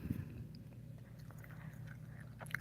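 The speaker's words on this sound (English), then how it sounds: "If you hear just me chewing, I'm not being gross. I'm just chewing gum" Gum chewed steadily near the mic, with soft, faint, continuous wet mastication sounds and no talking over it.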